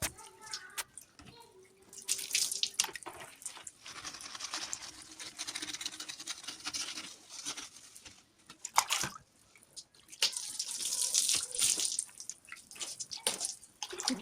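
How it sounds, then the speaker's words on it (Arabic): Water is poured from a jerrycan to rinse a dusty kitchen item, splashing and pattering in uneven bursts with short pauses and clatter between them. "نرمي لها الماء بالبيدون كيما راكم تشوفوا"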